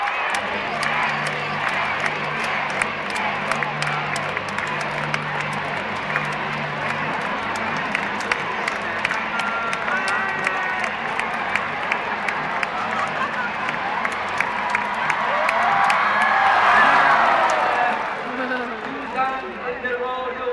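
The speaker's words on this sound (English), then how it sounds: "Remember now, Barry supporters, cheer much louder this time." Supporters cheer and call out at a parrots' basketball tournament, a busy mix of crowd noise, scattered claps and excited voices that swells louder near the end before easing off.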